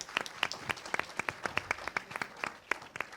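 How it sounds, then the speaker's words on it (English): Sparse, steady clapping from a small audience at a Lifebuoy brand campaign launch with Kajol and about a hundred expectant mothers, with distinct individual claps in an even, moderately quiet rhythm and no talking. "with a huge round of applause"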